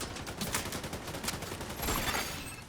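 A deployed turret firing in The Division 2, with rapid, crackling bursts of automatic fire. A few sharper shots stand out against steady background gunfire at mid distance.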